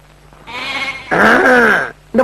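Goats bleat loudly and close by in a village scene, two long wavering calls, one after the other, with the start of a third at the end.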